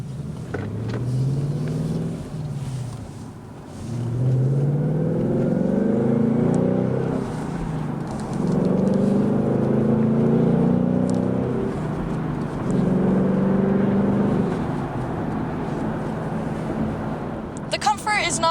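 A Ford Mustang GT convertible drives in comfort mode, its engine note climbing in pitch through several successive pulls with brief dips between shifts, over steady road and wind noise.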